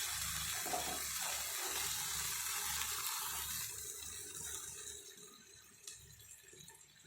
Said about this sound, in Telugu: కొద్దిగా వాటర్ వేస్తున్నానండి నేను